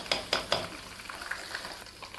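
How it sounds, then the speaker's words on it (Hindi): Masala with green chillies frying in a pan for an egg and Lahori chickpea dish, a soft steady sizzle with a few stirring scrapes near the start, close and moderately quiet. "भून लेती हूँ मसाले को"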